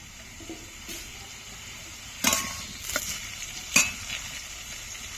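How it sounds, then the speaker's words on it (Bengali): Spices and slit green chillies sautéing in a pan for a thin fish curry, with a low steady sizzle under a few sharp spoon knocks against the pan, close and with no voices. "বেশ কিছুক্ষণ ধরে একটু কষাবো।"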